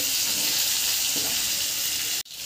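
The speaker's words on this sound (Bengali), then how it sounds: "মাছটাকে এইভাবে আস্তে আস্তে ভেজে নেবো।" Shol (snakehead) fish frying slowly in hot oil seasoned with cumin and black cumin, a steady close, dense sizzle that runs on evenly before cutting off briefly near the end.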